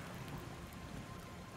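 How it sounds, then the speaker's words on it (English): Steady rain falls in the survival video game Project Castaway, a dense, even hiss of drops that stays quiet and constant throughout, with no voices. "It's still raining."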